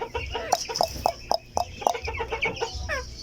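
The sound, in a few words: silkie chickens clucking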